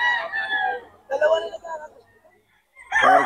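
A young gamecock (stag) at a gamefowl sale in Bocaue, Bulacan crows in a few loud, close bursts separated by short pauses.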